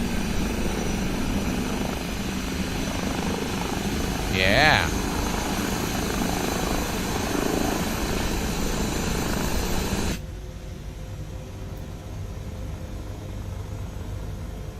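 Airbus-style HPG H160 helicopter in Microsoft Flight Simulator, its engine and rotor giving a steady broadband whine and hum that runs loud and constant, then drops to a quieter, duller drone partway through, with a brief spoken word.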